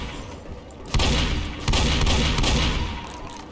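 Gunfire in the zombie shooter Left 4 Dead, loud bursts of rapid shooting that start abruptly and blend into a thick, booming roar of weapons and game noise.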